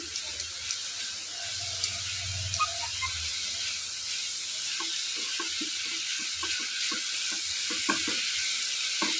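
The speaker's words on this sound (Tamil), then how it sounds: "மஞ்சத்தூள் இந்த காய்க்கு கொஞ்சம் உப்பு போட்டுக்கோங்க இது நல்லா வதக்கி விடுங்க வதங்கட்டும்" Bottle gourd with chili powder, turmeric and salt sautéing in a pan: a soft, steady sizzle with a low hum early on, then scattered clicks and taps of stirring.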